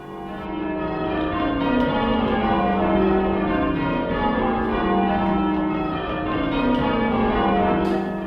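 Church bells rung by hand with ropes in a tower built in 1786, a steady peal of overlapping ringing strokes that repeat in a regular rhythm, moderately loud and resonant, no talking.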